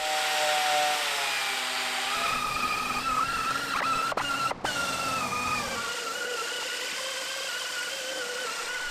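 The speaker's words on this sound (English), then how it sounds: "Valerio started grinding down all of the spots that were showing signs of surface rust" An angle grinder works surface rust off the body metal of a BMW E46 330i, a steady loud whine running throughout with no one talking.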